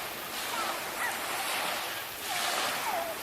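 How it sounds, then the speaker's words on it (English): Waves washing onto a lake beach at East Harbor State Park, a broad steady wash of surf that swells and eases, with wind hiss over the microphone and no close voices. "This is part of the beach they're reclaiming, so it's very nice."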